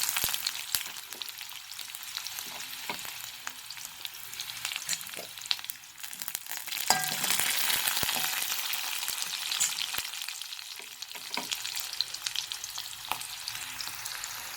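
Garlic and ginger sizzle in hot oil with chili already in the pan for a baby potato masala curry, a continuous frying crackle with scattered stirring clicks, swelling louder midway.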